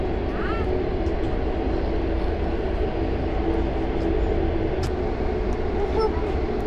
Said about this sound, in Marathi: ऐकायला आवडली ट्रेन